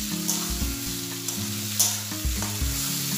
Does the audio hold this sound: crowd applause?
no